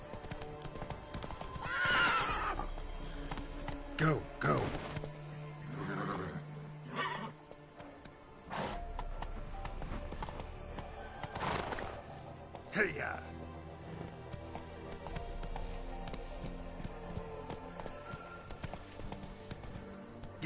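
Galloping horse hooves from The Witcher 3: Wild Hunt, rapid rhythmic clip-clop with neighs and whinnies, loud and close, while a voice speaks briefly over the running.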